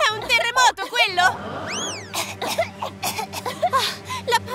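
An ill woman coughs in an animated comedy, loud and close, mixed in with lively voices, a rising whistle-like sweep and other cartoon sound effects.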